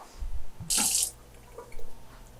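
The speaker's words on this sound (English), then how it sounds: "I always wet my measuring cup with some water." A tap runs briefly in a short burst of splashing water over a measuring cup, stopping after about a quarter second, with faint handling noises around it.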